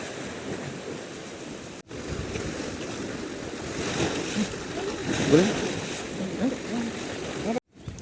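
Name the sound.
sea waves on rocky shore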